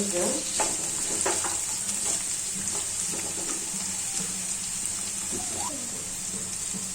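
Peas, capsicum, cauliflower and other vegetables are stir-fried for chirer polao, with a constant close sizzle beneath repeated scraping and clattering strokes of a spoon in the pan.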